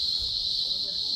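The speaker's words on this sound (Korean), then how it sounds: "꽃동산에서 매미가 우는 소리를 들으면서" Cicadas sing outdoors in a flower garden, a steady, unbroken high-pitched drone that holds at an even level from start to finish with nothing else standing out.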